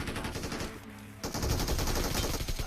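Automatic gunfire in the battle royale game BGMI, an AK and an MG3 exchanging fire, dense rapid bursts that grow louder and busier after a brief lull, with no talk over them.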